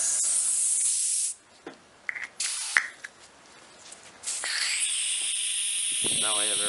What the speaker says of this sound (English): Now I have air coming out. You can probably hear it.